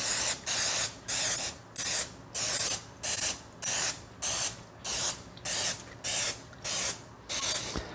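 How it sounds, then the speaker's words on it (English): Cooking spray is misted onto a mini muffin tin in a steady run of about a dozen short, even hissing bursts, close and loud with brief gaps between them. "I'm going to take my mini muffin tin and I'm going to spray it."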